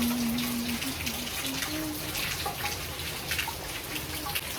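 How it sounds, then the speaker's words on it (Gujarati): Heavy rain pours steadily outdoors near a home, making a dense, constant patter and wash of drops on surfaces that stays close and even throughout. "જો હજુ પડે જ છે વરસાદ જો"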